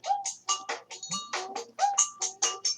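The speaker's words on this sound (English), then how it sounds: "There goes my phone." A mobile phone rings with a melodic ringtone of short, bright tonal notes repeating in a steady rhythm, fairly loud and close, with no talking over it.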